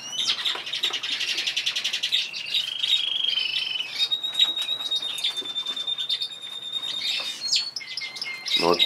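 A chaffinch flying about indoors in a kitchen, chirping and trilling in rapid bright bursts with brief wing flutters, fairly close and continuous, no talking.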